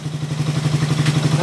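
A Raider 150 motorcycle engine runs steadily close by after a push-button start, a smooth, even idle with a low regular pulse that holds throughout.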